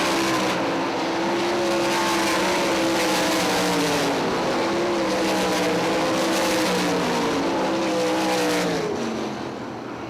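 Sprint cars roar around Eldora Speedway dirt oval on a final heat-race lap, several loud engines wailing together with rising and falling pitch, continuous and close before fading slightly at the end.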